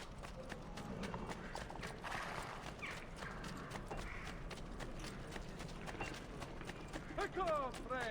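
Horse hooves clip-clop in Assassin's Creed 2, a steady rhythmic patter under game music and ambient noise, with a few short rattling sounds near the end.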